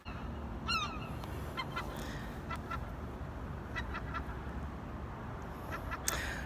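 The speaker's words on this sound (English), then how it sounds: "I was trying to wait for those seagulls to shut up, but they won't" Gulls calling outdoors on a hot day, a few sharp squawking cries and scattered bursts of calls against steady background noise, with one louder cry near the end.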